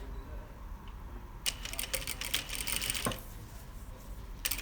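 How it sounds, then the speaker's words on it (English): A sewing machine top-stitches bias binding along a seam edge, running in a short burst of rapid mechanical stitching after a quiet start, with brief clicks near the end. "I'm going to stitch that binding along the edge there"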